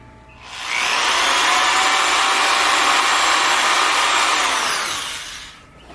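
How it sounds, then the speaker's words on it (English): A power drill whirs loudly and steadily, drilling a hole straight through wood for about five seconds, starting and stopping abruptly, close by. "I'm going to drill a hole straight through here"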